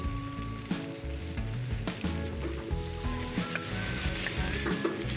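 Shrimp sizzle slowly in oil in a pan with pepper and Thai basil, a steady close crackling hiss that runs throughout with a continuous low background hum.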